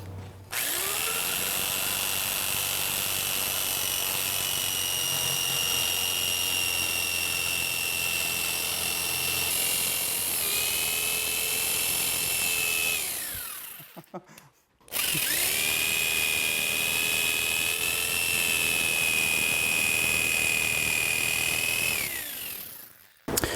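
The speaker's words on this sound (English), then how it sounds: "So sometimes when you're using a bandsaw and you're going around a radius, your blade will get pinched or the material will get pinched." A bandsaw cuts through material for a double nail pad on a horse hoof, its steady high whine running loud for a long stretch, stopping briefly, then resuming before winding down.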